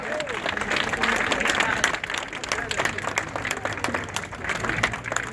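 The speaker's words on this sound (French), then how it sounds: "on peut l'applaudir, c'était super." Audience applause at a legislative election campaign launch rally in Paimpol, a dense, steady clatter of many hands clapping throughout, with some voices and cheering mixed in.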